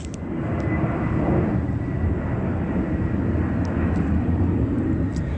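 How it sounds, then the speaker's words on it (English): Plain white commercial airliner flying near Ontario International Airport, a steady broad engine roar that fades in over the first half second and then holds loud and constant, with no talk. "The Ontario International Airport, using what is a commercial airline plane with no logo on it."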